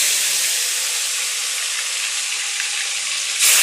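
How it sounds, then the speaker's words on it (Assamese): Fish frying in hot oil in a home kitchen, giving a loud, steady, close sizzle that carries on throughout with no talking. "তেল ঢালি দিলোঁ, অলপ গৰম হ'লে আৰু এই মাছখিনি দি দিম"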